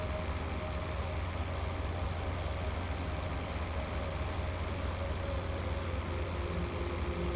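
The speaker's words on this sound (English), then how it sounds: "Is the engine sound anything? Is it too much of a lawnmower?" Propeller aircraft engine from the IL-2 Sturmovik flight game, droning steadily and evenly throughout with a low rumbling hum and no talk over it.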